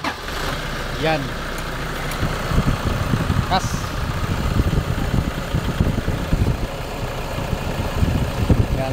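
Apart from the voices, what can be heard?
Toyota Innova engine idling after start, air conditioning running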